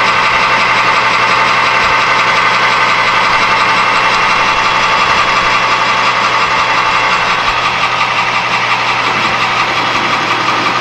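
A lathe running at speed while facing off a small coated screw, a loud, steady, continuous motor drone with a constant hum, close and unbroken throughout.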